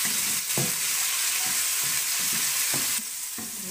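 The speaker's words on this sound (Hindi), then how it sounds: "इसको भी थोड़ा सा फ्राई कर लेंगे।" Ginger garlic paste fries in oil for chicken pasta, a constant bright sizzle with a few soft stirring knocks and scrapes; no voices.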